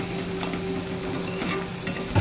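Crab pieces fry and get stirred in a pan, a steady close sizzle with scraping strokes of a spatula against the metal and a sharper clatter at the end.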